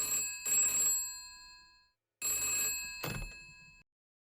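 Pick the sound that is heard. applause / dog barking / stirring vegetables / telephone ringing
telephone ringing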